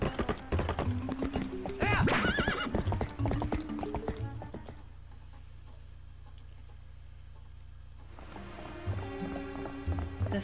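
Horse hooves clip-clop in a rhythmic gallop with neighing in the video game Twilight Princess, over game music; the hoofbeats drop out midway and return near the end.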